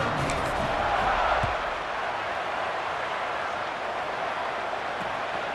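Home crowd cheering in the College Football 27 video game, a Boston College versus Notre Dame matchup, as a steady broadband roar of stadium noise that swells slightly early and then holds at an even level.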